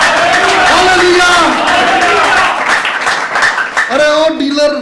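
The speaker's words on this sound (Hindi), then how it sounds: "अरे यीशु के लिए जोरदार तालियां बजाइए।" A church congregation breaks into loud applause for Jesus during a sermon, a dense wash of clapping and crowd noise with a voice speaking over it throughout.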